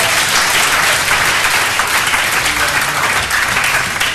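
A church congregation breaks into loud, sustained applause, dense continuous clapping with a few cheers mixed in, close and filling the whole moment.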